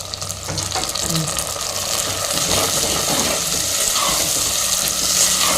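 Onion and tomato sauté in a pan for a Tamil fenugreek kuzhambu, a loud, close, continuous sizzle with crackling and scraping stirs throughout.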